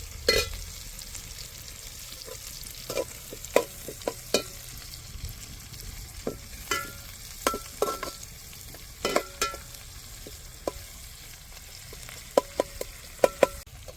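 Onions fry in a pan with prawns, a constant close sizzle punctuated by irregular sharp clacks and scrapes of a stirring spatula against the pan, growing busier toward the end, with no voices.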